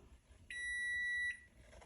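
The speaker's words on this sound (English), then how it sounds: "The timer has gone off." A kitchen timer sounds while potato and fenugreek cook on a gas stove, giving one steady high electronic tone of under a second over low background hiss, with no talk.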